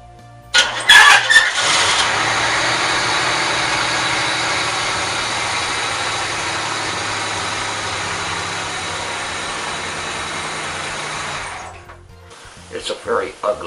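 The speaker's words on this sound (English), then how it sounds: "I'm going to leave you today with the sound of my car starting for the first time in 3 days." After sitting for three days, a car engine cranks with a squealing, rattling start, catches, and settles into a loud, steady idle. It then cuts off, leaving a few faint knocks and shuffles at the end.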